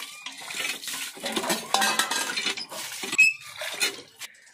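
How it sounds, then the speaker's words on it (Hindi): Dishes, pots and utensils being washed by hand, with steady clinking and clattering of metal and running water throughout, close and fairly loud with no talking. "रूपतारा जी बर्तन वर्तन धो ली"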